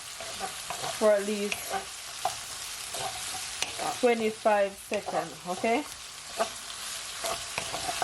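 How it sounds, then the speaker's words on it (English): Tomato and carrot stir-fry in a hot pan for a Jamaican pepper shrimp spaghetti dish, with a steady sizzle and bursts of stirring and scraping while a person talks over it throughout. "Because I'm just stir frying it."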